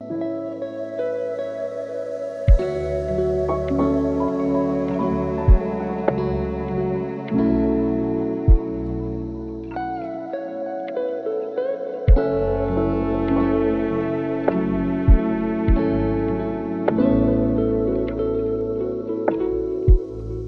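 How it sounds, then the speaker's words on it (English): A mellow, slow lo-fi beat with soft echoing keys and muffled kick and snare hits in a relaxed, sleepy rhythm. "make a sleepy beat that sounds something like this"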